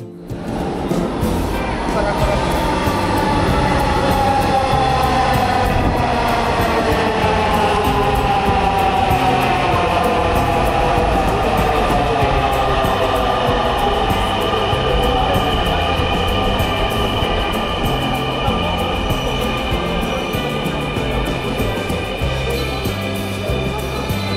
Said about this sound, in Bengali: কিছুক্ষণের মধ্যে আমাদের ট্রেনও চলে আসে